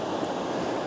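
Fast-flowing water of a mountain stream in the Mt Hood Wilderness, a steady close rushing roar with no voices.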